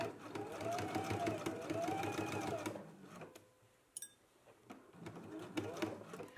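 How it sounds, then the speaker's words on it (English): A sewing machine stitches in the ditch along a waistband seam, running in a steady, close mechanical whir for about three seconds before stopping, followed by quieter handling noises and a few small clicks. "we can go to the sewing machine and we are going to stitch right here in our seam"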